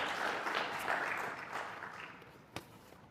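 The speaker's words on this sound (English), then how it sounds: "Let's clap for her once again." Audience applause at a Pan African conference session in Kenya, a soft, steady wash of clapping from a distant crowd that fades out over a few seconds.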